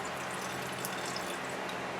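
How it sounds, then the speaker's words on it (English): Vodka pours in a steady, even stream into jars of black walnuts, a continuous soft liquid splash with no talking. "take the lids off of these, and pour up some vodka in there"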